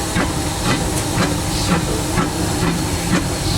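Steam hisses steadily inside the cab of a Disneyland Railroad steam locomotive, a loud broadband rush with faint rhythmic chuffing pulses from the engine, close and continuous without talk.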